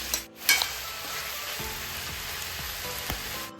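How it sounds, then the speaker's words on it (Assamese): Meat and banana flower frying in oil with ginger, garlic and onion, a loud continuous sizzle close by, broken by a few clattering stirs. "মই যেতিয়ালৈকে মাংসখিনি ভাজ খাই নাযায় তেতিয়ালৈকে ভাজি থাকিম।"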